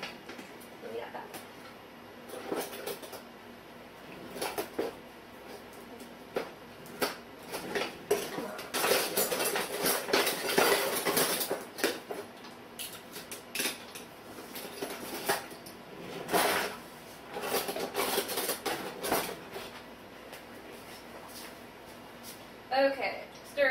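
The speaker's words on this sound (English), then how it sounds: "Okay, stirring. And Now normally honey would probably be a little difficult to stir, but since we zapped it," A spoon stirs warmed, microwaved honey in a bowl, clinking and scraping against the sides in uneven bursts, with a person talking over much of it.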